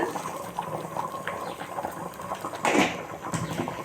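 Sweet milk mixture for paal kozhukattai simmering in a pot, a close, continuous bubbling and soft gurgling with a brief louder burst of bubbles near the end.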